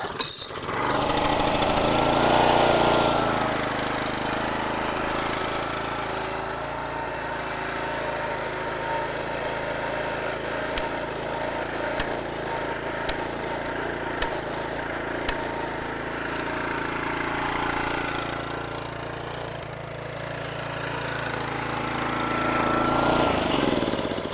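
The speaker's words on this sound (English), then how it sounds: "the engine runs, but there's no hydraulics" The small engine of a Yard Machines log splitter with no hydraulics runs steadily at a constant drone, with occasional faint clicks and knocks over the continuous hum.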